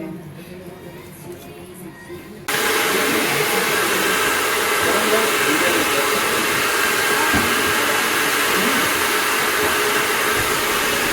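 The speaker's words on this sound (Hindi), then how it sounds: "फिर इनका हमने ड्रायर स्टार्ट किया।" Salon hair dryer running on medium heat after a hair colour application: a loud, steady blowing roar that switches on abruptly after a quieter stretch and continues without a break.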